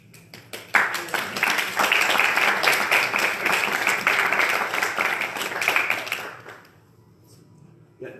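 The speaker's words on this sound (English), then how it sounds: "that was real nice, the round of applause" An audience at a Christian motivational talk in Richmond, Virginia breaks into sudden, dense applause that stays loud for about six seconds, then fades to scattered claps and quiet.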